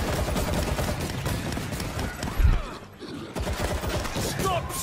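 Dense automatic gunfire in the video game World War Z, loud rapid bursts rattling almost continuously, with a brief lull and a heavier thump midway before the shooting resumes, voices faintly mixed in.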